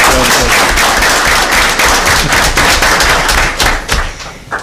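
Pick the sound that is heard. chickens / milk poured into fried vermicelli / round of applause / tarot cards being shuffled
round of applause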